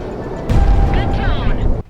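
Bomb impacts in the flight combat video game Project Wingman, a sudden heavy blast followed by a sustained rumbling roar with rising whooshing tones, loud and close, cutting off abruptly.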